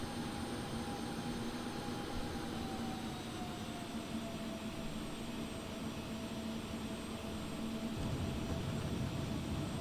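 Steady roar of a C390 jet aircraft after landing on the runway in the X-Plane 11 flight simulator, a constant engine drone with a faint whine, unchanging throughout with a slight swell near the end.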